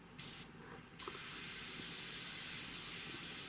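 Airbrush spraying unthinned primer in steady, close hissing bursts: a short spray, a pause, then a long continuous spray, with no talking.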